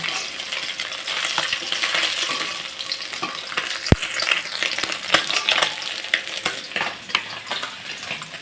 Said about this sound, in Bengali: সবগুলো বেশ সুন্দর লাল করে ভেজে নিয়েছি